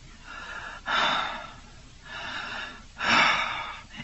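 A man breathes heavily in an imitation, with two loud rasping inhalation-exhalation cycles, each swelling then fading, close to the mic.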